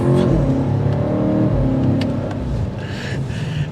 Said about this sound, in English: all I can hear is that exhaust note.